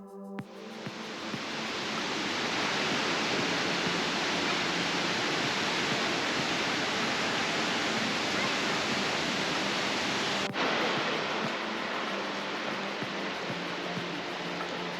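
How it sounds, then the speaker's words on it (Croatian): The Ouzoud waterfalls in Morocco cascade about 110 metres into the El Abid river gorge. The roar is a loud, continuous wash of rushing water that starts almost at once and holds steady with no talking. "Već na samom vrhu vodopada možete vidjeti nekoliko slapova koji se kaskadno spuštaju s visine od 110 metara"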